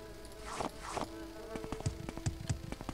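Insect-like buzzing of flies in the game Morrowind, a whining drone sweeping past with a few sharp clicks and taps, faint and near, with no talk.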